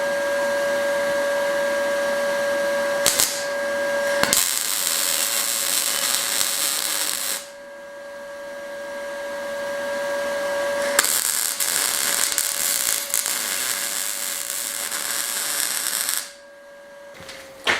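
Metal pieces being welded by hand, with a steady buzzing, crackling arc in long bursts separated by short pauses, close up with no talk, during restoration work on an old Spanish finca.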